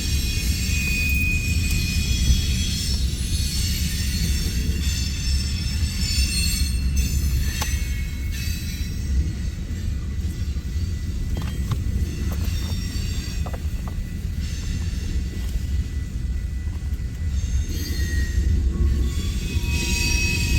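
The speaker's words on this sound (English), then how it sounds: "driving the train today, the big boy" Union Pacific Big Boy steam locomotive and its train rolling past, a heavy continuous rumble with occasional metallic wheel squeals and clanks, loud and close.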